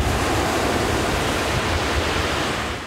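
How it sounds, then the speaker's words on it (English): Waves crashing on a Vancouver Island shore in heavy wind, a loud, continuous roar of surf and wind noise filling the whole stretch, with no voices. "Waves rocked the shores up and down Vancouver Island today with heavy winds"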